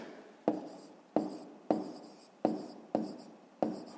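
Chalk or marker writing on a board during a fifth-grade maths lesson, heard as six sharp strokes at roughly regular intervals, each a crisp tap followed by a short scratchy trail, fairly close and with no voices.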